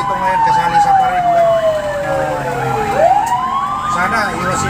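Fire truck sirens wail in a fire prevention month parade in Sta. Rosa, Laguna, several overlapping rising and falling tones sounding loud and close over a steady engine rumble and crowd noise.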